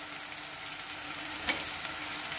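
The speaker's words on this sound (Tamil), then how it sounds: "நம்ம சின்ன சின்னதாக நறுக்கி வச்சுருக்க பூண்டு, இஞ்சி இதையும் சேர்த்து நல்லா வதக்கிக்க போகிறோம்." Chopped garlic and ginger sauté in hot oil in a pan for Chettinad pepper chicken, a steady close sizzle with a brief stir near the middle.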